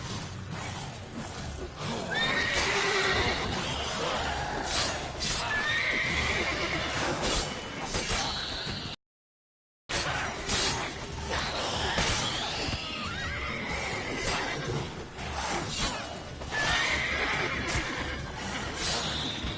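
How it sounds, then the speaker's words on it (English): A horse in The Witcher 3 neighs and whinnies repeatedly amid game ambience with rustling and thumps, loud and continuous, broken by one short gap of silence. "My horse just attacked me."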